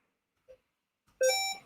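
Electronic beeps from the Chrome Dino browser game play: a short faint blip followed by a louder sustained tone, with no talk.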